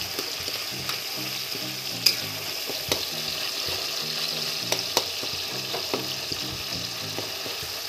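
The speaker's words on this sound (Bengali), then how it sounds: "টমেটোটা এভাবে দিয়ে তেলের মধ্যে ছেড়ে দিয়ে রান্না করলে কালারটা খুব সুন্দর আসে" Tomatoes sizzle in hot oil for a poultry meat curry, a steady close frying hiss with occasional light stirring clicks and faint spatter, no voices.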